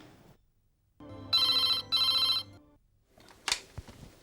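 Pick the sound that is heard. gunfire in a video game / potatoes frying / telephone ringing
telephone ringing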